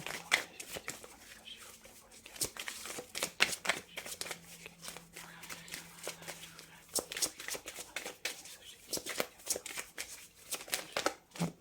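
Tarot cards are shuffled with quick, irregular riffles and soft slaps running through the whole stretch, fairly faint and close, with a low steady hum underneath.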